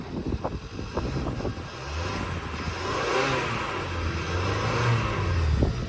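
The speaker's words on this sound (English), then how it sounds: "let's give it like a couple of revs" A hail-damaged 2016 Kia Sorento's engine revs up and holds a rough, rising drone, with a few sharp knocks and clatters early on, fairly close and continuous.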